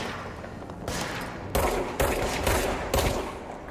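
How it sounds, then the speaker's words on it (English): Gunshots in the video game Control, loud and close: a single shot followed by three more in quick succession, each a sharp broadband crack with a short tail, over low ambient hum. "See, that's 4 shots."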